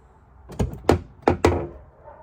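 A sticking door on an Opel Vectra C is worked open and shut, giving four heavy thunks in two pairs with short gaps, close and loud, with no talking.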